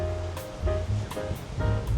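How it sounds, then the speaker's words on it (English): Sea water washes in at the port of Trani, Italy, a steady rushing wash with soft surges, heard from a lookout above the harbour. "The water coming in"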